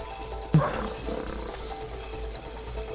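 A lion roar sounds in the It Takes Two game, one short loud growling burst near the start, then it fades into a steady background hum.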